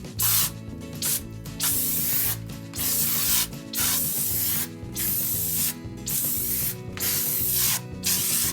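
Aerosol cleaner sprayed onto a dusty home air conditioner condenser in repeated bursts of about a second each, close and loud, separated by short pauses over a steady low mechanical hum.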